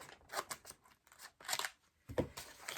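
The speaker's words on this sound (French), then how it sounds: "Et je vais prendre ma paire de ciseaux. Hop. Donc pour essayer d'ouvrir sans faire trop de bruit." Several short crisp snips and rustles of scissors cutting through packaging, close and fairly quiet, arriving in irregular bursts with brief pauses.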